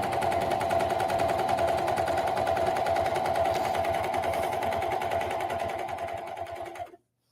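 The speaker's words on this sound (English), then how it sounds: "we'll slide this under here and we'll stitch." A sewing machine stitches a folded hem on knit fabric, a loud steady fast-running whir that holds for nearly seven seconds and then stops abruptly, with no talking.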